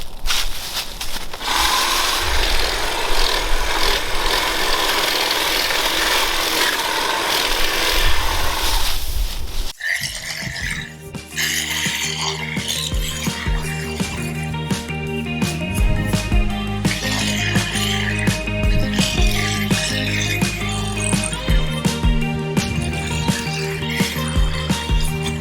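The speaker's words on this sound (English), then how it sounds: "Great cordless hedge trimmer here." A cordless hedge trimmer cuts through yard growth with a dense, buzzing rustle for the first ten seconds, then gives way to a busier stretch of clattering, chopping and motor noise, close and loud throughout.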